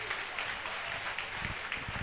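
A church congregation claps and cheers in a continuous spread of applause, with rhythmic hand claps rising near the end.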